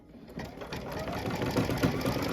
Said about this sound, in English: gonna get this stitching started. This is probably gonna be like one of those triple stitch